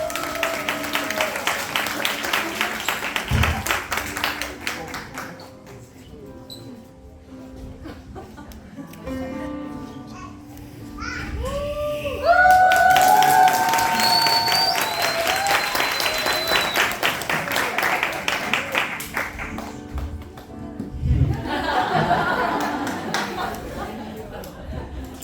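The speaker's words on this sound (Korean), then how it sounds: "박수하겠습니다." Applause from a church congregation during a celebration service, a broad wash of clapping with crowd chatter that swells and fades, with voices speaking over parts of it.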